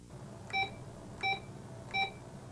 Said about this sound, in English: Keep on pressing the down arrow key until you hear the beep once again